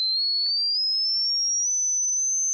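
A pure sine tone glides slowly upward in pitch, smooth and steady, alone against silence.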